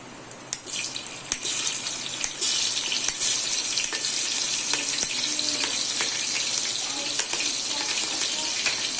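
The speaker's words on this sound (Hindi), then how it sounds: "इसको भी डाल के मैंने अच्छे से फ्राई कर लिया" Thick green chilies fry in masala for a chickpea pulao, with a loud, continuous sizzle and frequent spoon clacks against the pan.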